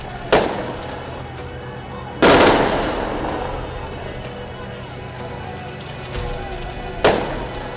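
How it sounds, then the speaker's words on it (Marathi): Three police rifle salute rounds go off into the air at a state funeral ceremony, sharp loud cracks spaced about two seconds apart and then five seconds apart, each with a rolling outdoor echo, heard over crowd murmur. "मानवंदनेनंतर गोळ्यांचे 3 राऊंड हवेत फायर झाले।"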